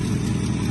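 A 1971 IH Loadstar truck engine idles steadily and fairly close, a smooth, even low rumble with no revving or voices.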